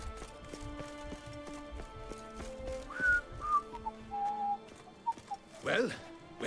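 A character in The Witcher 3 whistles a short melodic tune in a few bright phrases, set against the game's ambient music and the clip-clop of a horse's hooves.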